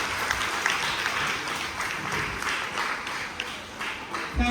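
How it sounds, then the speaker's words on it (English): An audience claps steadily at an evening awards ceremony in St Mary, Jamaica, the dense applause filling the room for several seconds without a break. "Clap her for me"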